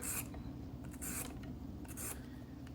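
A radish being peeled by hand for radish cake, scraping strokes repeating about once a second with crisp bursts, close and fairly quiet over steady background hum.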